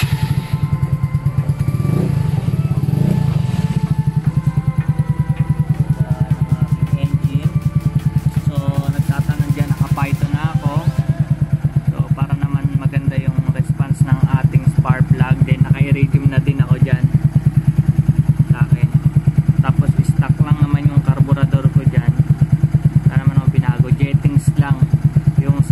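A Yamaha Mio Soulty scooter engine starts and settles into a steady idle after an oil change, its low hum running close and continuous throughout while someone talks over it.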